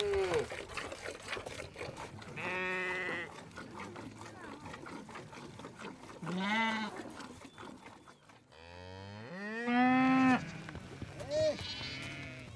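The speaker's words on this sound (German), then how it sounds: "Zedendam melkt die Kühe, denn Melken ist hier ausschließlich Frauensache." Cattle on open nomad grazing land in Mongolia moo loudly during morning milking, several long drawn-out calls near and far, with a person talking over parts of it.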